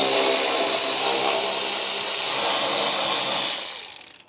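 A power tool backing screws out of the front bumper of a BMW E65/E66 7 Series, a loud steady high whine held for about three and a half seconds before spinning down and stopping.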